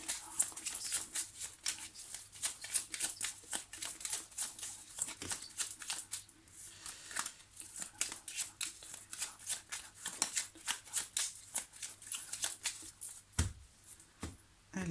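A deck of cards is shuffled and cut close up, giving a long run of quick, quiet riffling and slapping patters with short pauses between bursts.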